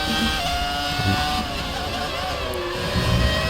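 A simulated Formula 1 car engine whines at high pitch in a racing video game, a steady loud tone whose pitch slides as it shifts up a gear, with faint talk beneath.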